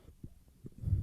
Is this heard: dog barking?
no